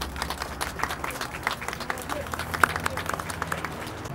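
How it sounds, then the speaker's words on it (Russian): Audience applauding at the unveiling of a Stalin monument, a crowd of hands clapping steadily with distinct sharp individual claps standing out, moderately loud and continuous, with faint murmuring underneath. "Ну, аплодисменты так аплодисменты."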